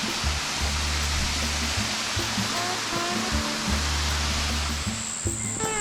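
Waterfall at Paddys Falls on the southern side of Mount Maroon, a steady broad rushing roar of falling water, loud and continuous throughout, with faint voice-like tones mixed into the noise.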